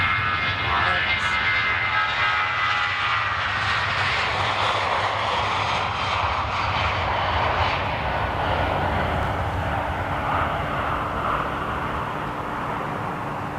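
A big passenger jet, a Boeing 737 or an Airbus, passes low near a residential spot, a steady loud roar with high whine that stays strong throughout and eases only slightly toward the end.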